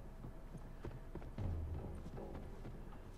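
Faint clip-clop of horse hooves in the video game The Last of Us, a quick rhythmic patter of light hoofbeats at low volume with a soft background hum.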